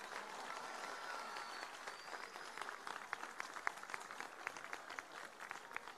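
A large crowd applauds steadily at an election victory speech for the Dominican Republic presidency, with dense clapping and occasional sharper claps throughout, loud and continuous with no voice on top.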